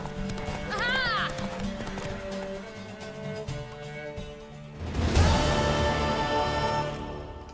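A mare's hooves clatter in a fast galloping rhythm during a horse race in The Witcher 3: Wild Hunt under a music score, with a whinny early on and a swell of sound near the end.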